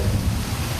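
A brief, loud burst of heavy rain with a deep thunder rumble rolling underneath, no voices.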